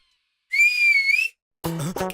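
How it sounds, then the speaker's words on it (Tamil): A single sharp whistle blown as a signal sounds loud and close for under a second, steady with a slight waver, followed after a short gap by a voice speaking. "அவ விசில் தான், அவ விசில் தான்."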